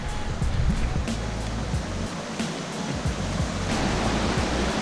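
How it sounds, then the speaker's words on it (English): A mountain creek rushing over rocks at a trail crossing on the Longs Peak route in Rocky Mountain National Park, a steady, close, hissing flow with a few faint knocks over it. "creek crossing right here."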